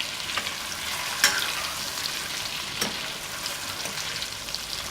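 Goat brain masala fries in a pan with a close, continuous crackling sizzle, broken by a couple of sharper spatters or stirring knocks.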